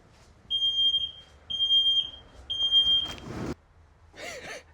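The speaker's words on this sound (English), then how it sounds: "carbon monoxide alarm stopped going off" A carbon monoxide alarm sounds three loud, evenly spaced pairs of high electronic beeps, followed by a short rustle and a faint chirp in an otherwise quiet space.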